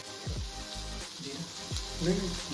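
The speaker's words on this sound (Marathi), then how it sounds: "असा एकदम फ्राय होतोय बांगडा" Bangda mackerel fries in hot oil with a steady, moderate sizzle. Low rumbling thumps and murmurs run underneath.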